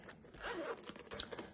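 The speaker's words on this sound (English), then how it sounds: "Zips right up." A zipper is drawn shut on a small Claire's bag-charm backpack, giving a short, quiet, close-up rasp with a couple of quick pulls.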